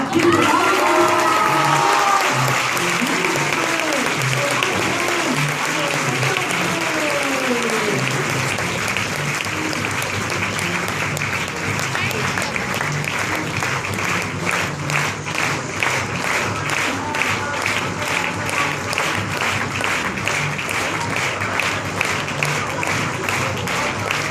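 Sustained applause from an audience at a group testimony event, steady and dense throughout, with crowd murmur and a few voices mixed in, clapping growing more rhythmic toward the end.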